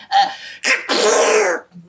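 A storyteller's voice imitates a sneeze, a sharp gasping intake followed by a loud, breathy burst that trails off, close and alone.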